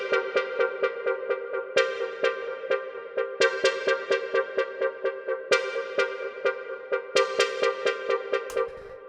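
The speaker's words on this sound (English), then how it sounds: "I've also got these lush stabs" Lush Digitone synthesizer chords hit in short rhythmic stabs, repeated pulses with brighter accented hits every couple of seconds, played alone without voices.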